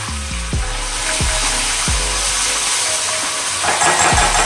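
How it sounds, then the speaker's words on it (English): Fiddler crabs dropped into hot grease to fry, a steady loud sizzle punctuated by several dull thuds as pieces go in, close up, with no talk. "our grease is hot, and we're ready to start dropping them in"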